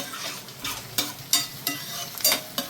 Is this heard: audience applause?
no